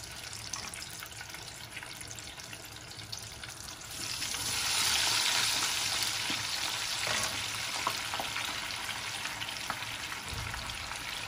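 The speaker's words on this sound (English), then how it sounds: "Now I'm going to fry them." Potatoes frying in a pan for a chicken biryani: a steady broadband sizzle that grows louder partway through and holds, close and continuous, with no talking.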